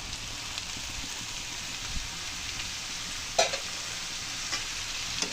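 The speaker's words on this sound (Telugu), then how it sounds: "చుక్కకూర వేసి బాగా కలిపి" Chopped chukkakura sorrel leaves are stirred into a frying tomato curry, a steady crackling sizzle with an occasional clink of the spoon against the pan.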